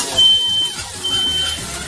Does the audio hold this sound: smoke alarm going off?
yes